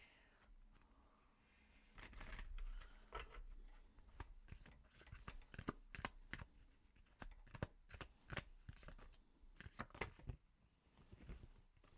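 Moonology oracle cards are shuffled close by in quick riffling bursts, with soft papery flutters and slaps repeating over several seconds.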